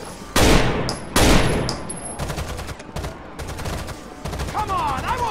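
Gunfire in Rainbow Six Vegas: two loud bursts of fire early on, then rapid repeated shots crackling on with a few pauses, close and dominant, with brief voices in the mix.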